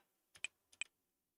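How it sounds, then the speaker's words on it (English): A computer keyboard gives two quick pairs of crisp clicks, close and fairly quiet in an otherwise silent room. "Why is my keyboard doing that?"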